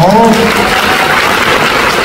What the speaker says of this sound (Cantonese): 大家鼓掌好唔好？